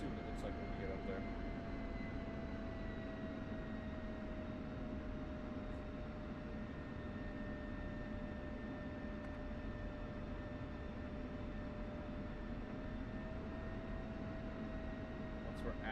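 An aircraft in a video game rolls toward the runway with a steady engine drone and faint high whine, a constant mid-level hum that never changes pace across the whole stretch.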